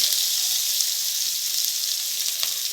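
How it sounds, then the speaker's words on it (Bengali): Chopped onion sizzles loudly in hot oil with whole cumin seeds and a dried red chili, a steady, dense, close frying hiss with no talking. "এবার দিয়ে দিচ্ছি পেঁয়াজ, কুচনো পেঁয়াজ"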